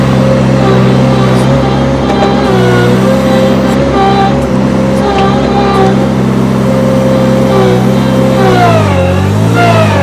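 Cormidi C1500 firewood processor motor running loud and steady under load, with a sustained harmonic drone that sags and recovers in pitch as it labours, then dips sharply near the end.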